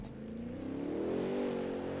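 A race car revs hard in the Assetto Corsa racing game, the engine note climbing and holding a steady, loud drone throughout.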